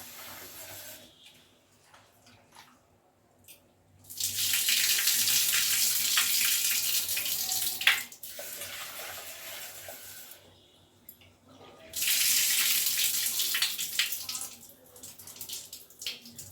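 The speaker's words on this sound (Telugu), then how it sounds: "పప్పు అయితే కడుగుతున్నా అండి ఒక రెండు సార్లు కడిగేసి నానబెడతా" Lentils are rinsed under a running kitchen tap in two loud, steady bursts of gushing water separated by quieter handling and faint background noise.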